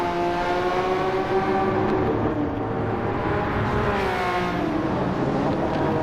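A Porsche 993 and a Ferrari Testarossa racing in Gran Turismo 7, a steady loud engine drone with rising and falling rev tones as the cars accelerate and jostle through a corner.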